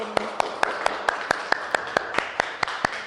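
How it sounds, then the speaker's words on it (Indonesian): Rhythmic hand claps in a fifth-grade Buddhist religion classroom, about thirteen sharp, evenly spaced slaps at a steady tempo, close and clear, applauding a student group, with no talking. "kita tepuk tangan untuk kelompok 1"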